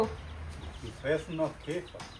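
A chicken clucks nearby, a few short throaty clucks in quick succession over low background noise and faint talk.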